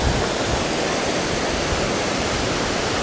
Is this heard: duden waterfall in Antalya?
yes